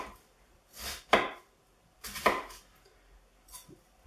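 A kitchen knife slices across a red onion on a cutting board for a small dice, giving a few sharp, close thuds with brief swishing strokes between them, spaced about a second apart.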